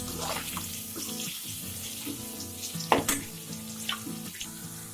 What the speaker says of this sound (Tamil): இப்போ தக்காளி வந்து அந்த எண்ணெயோட சேர்ந்து நல்லா வதங்கியிருக்கு